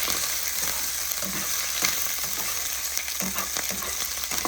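Vegetables for a curry fry in a pan with a constant close sizzle, broken by occasional stirring scrapes and soft knocks, and no voices.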